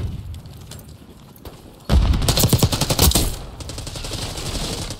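Rapid gunfire from a pistol in the shooter game Black Ops 6 breaks out suddenly after a quieter stretch, loud and close, with several fast shots followed by continued firing and explosive noise.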